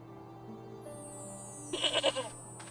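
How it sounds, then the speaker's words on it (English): A goat bleats once, a short wavering cry near the microphone over a steady electronic hum. "Again, the goat sound."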